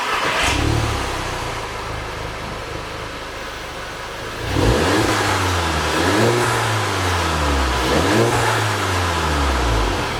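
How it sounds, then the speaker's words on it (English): A Volkswagen MK7 GTI with its stock exhaust idles with a steady low rumble, then is revved several times in succession, each rev rising and falling in pitch, loud and close with no talk. "So we'll get an exhaust clip of what the car sounds like now"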